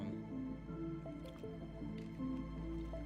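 Water placed in Minecraft gives soft, wet squishing and dripping sounds, faint and repeated, under a low background hum.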